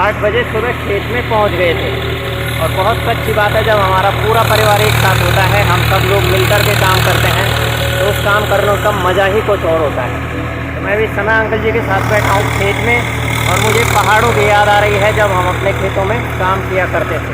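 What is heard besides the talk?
tractor engine running in a rice field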